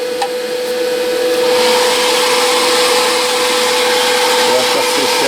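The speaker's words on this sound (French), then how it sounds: "Je vais sécher un peu au sèche-cheveux." A hair dryer blows steadily up close to dry a spot on the bodywork of a Jaguar E-Type, giving a continuous whirring roar with a fixed motor tone that holds for the whole clip, with no talk.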